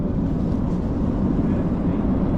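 A drying machine in a tea factory in Kerala blows air up through the tea leaves, making a constant low, heavy rushing drone with no break and no talk over it.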